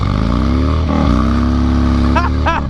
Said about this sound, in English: Totally just smoked that tire